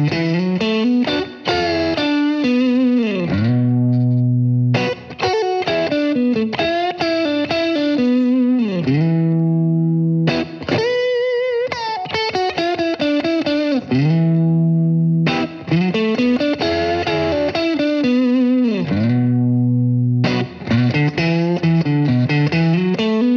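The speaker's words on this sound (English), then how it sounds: "It's got that classic sort of 50s overdriven tweed Fender sound." Electric guitar through a Fender Mustang LT25 amp on the Blues Lead 1 preset, a 50s overdriven tweed tone, playing loud sustained bluesy phrases with bends and repeated licks, alone with no talking.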